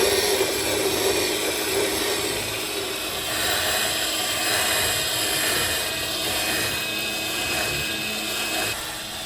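A Canoly masticating juicer runs steadily with a continuous motor drone and grinding hum, fairly loud and unbroken throughout, with no voices.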